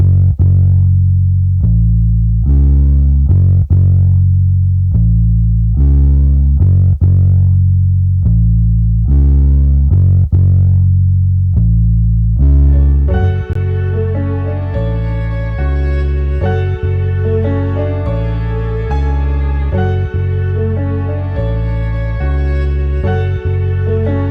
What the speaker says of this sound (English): I added this Fruity Fast distortion, you know, just to make the bass a little bit more rough